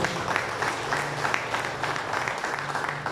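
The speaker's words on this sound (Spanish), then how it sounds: "Moisés Antonio González Cabañas, para quien pido un fuerte aplauso, por favor." A crowd claps steadily for a few seconds, the applause full and sustained with scattered sharper claps.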